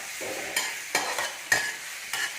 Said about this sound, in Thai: ผัดหมึกใส่กระเทียม ผัดไป ครับ ผัดไปให้พอดี อันนี้กำลังผัด